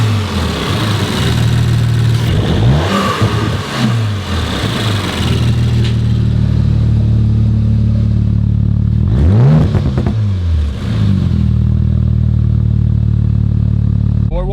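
A 2019 Audi RS5 engine with no muffler runs loud and close, a steady raw idle broken by two sharp revs that rise and fall, the first around two to five seconds in and another near nine to ten seconds.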